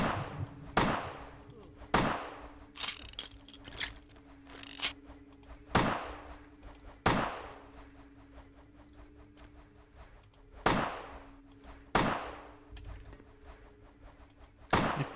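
Gunshots in the video game Vampire: The Masquerade – Bloodlines ring out as about ten sharp, evenly spaced single reports over a low steady hum, fairly close.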